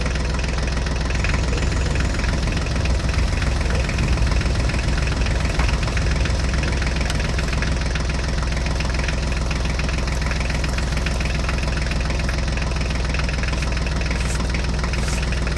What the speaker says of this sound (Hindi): चलो चलो, जल्दी से हम अपने जॉन डियर ट्रैक्टर को लेके चलते हैं